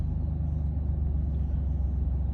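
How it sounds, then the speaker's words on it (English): A loud diesel truck rumbles close by with a steady low engine drone as it pulls up, no voices over it. "as a loud diesel truck pulls up next to me"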